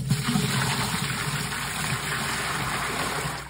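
Water dumped out of a hydroponic bucket, a steady loud gushing pour close by that continues evenly throughout without speech.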